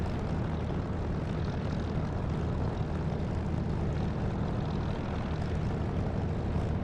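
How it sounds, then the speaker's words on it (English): A Spitfire's piston aircraft engine in the DCS flight simulator drones as a steady, loud, broadband roar that holds unchanged throughout, with no voices. "make sure you get a download from Echo 19 of the spit engine sound"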